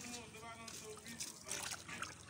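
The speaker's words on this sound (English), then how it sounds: "the first washing of the Ugba." Sliced ugba, oil bean seed, being rinsed in a basin of water with trickling, sloshing and light splashing close by, while people talk over the washing.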